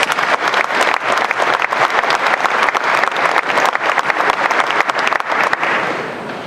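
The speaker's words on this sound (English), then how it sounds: "Please give Brian a round of applause." A crowd gives sustained applause for Brian Mason at a municipal association gathering, dense rapid clapping filling the room at steady loudness before tapering slightly at the end.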